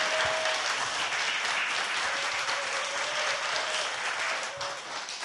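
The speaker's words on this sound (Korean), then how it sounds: "박수" Audience applause breaks out at a Korean talk show taping, a dense, even wash of clapping that holds for several seconds at moderate volume with faint whistle-like tones.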